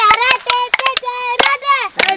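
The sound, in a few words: people clapping hands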